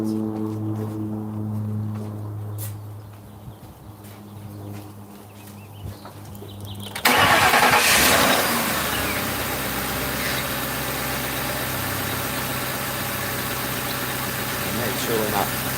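A 2005 Crown Victoria police car, just fitted with a new ignition coil and plug, cranks and catches about halfway through, then settles into a steady loud idle; a voice and birds are audible.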